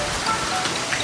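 Heavy rain falling in a village, a loud, dense and steady hiss of drops with no pauses and no other sounds.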